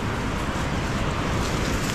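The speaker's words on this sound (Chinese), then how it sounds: "这是居高临下的瀑布啊" A waterfall in a cluster of falls in Guangxi woodland roars as a continuous, even rush of water, loud and close, with no talking.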